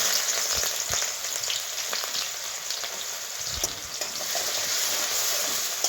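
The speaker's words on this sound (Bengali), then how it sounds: "পেঁয়াজগুলো আমি লাল লাল করে ভেজে নেব।" Onions frying in hot oil in a wok for a Bengali meat and bottle gourd curry: a steady, loud, crackling sizzle runs throughout with a few sharper pops and stirring scrapes, and no voices.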